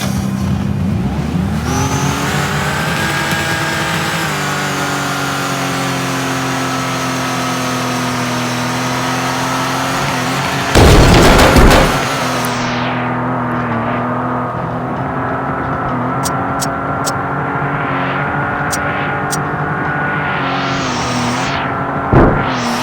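Nissan R32 drift car on a drift run, its engine roaring loud and sustained with shifting revs throughout and a brief harsh burst near the middle.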